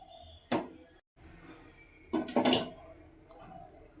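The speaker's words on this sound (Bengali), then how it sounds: "ঝোলটা একটু গরম হতে এবার এর মধ্যে দিয়ে দেবো মাছগুলো।" Catla fish pieces drop into hot curry in a metal pot, giving a sharp clatter followed by a cluster of louder knocks and clinks against the pot, with a brief quiet gap between.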